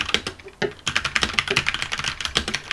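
Rapid typing on a computer keyboard by someone wearing an Omega wristwatch, a close, dense run of clicking keystrokes with brief pauses, no talking.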